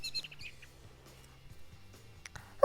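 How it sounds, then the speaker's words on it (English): Faint, scattered chirps from small birds come and go in an otherwise quiet outdoor setting, with a few brief tweets near the start and end. "And there's lots of little birdies about. We can hear them."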